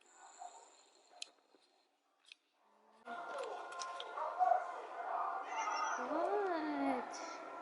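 A cat meows a few times in a drawn-out way while people talk nearby, during a bikepacking trip in Thailand. Quiet rustling comes first, and the meows rise over steady background chatter.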